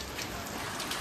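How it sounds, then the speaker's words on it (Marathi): Heavy monsoon rain hisses down in a soft, dense, even patter, fairly faint and continuous, with no voices. "हे बघा पाऊस मस्तपैकी आता चालू झालेला आहे."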